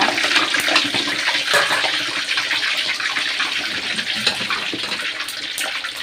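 Pork belly sizzles and crackles in a pan of hot oil as it is deep-fried into crispy pork, a loud, constant hiss close by with no talk.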